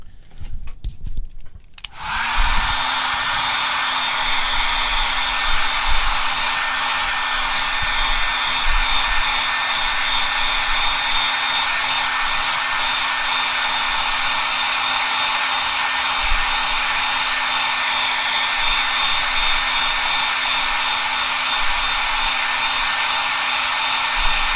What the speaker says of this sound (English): Let's blow dry this.